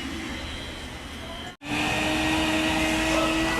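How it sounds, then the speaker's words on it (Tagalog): A wet-and-dry vacuum sucks water out of a soaked car carpet during auto detailing, a loud, steady close-up whine and rush that cuts out for a moment partway through, then resumes. "Pahigupan natin ng vacuum."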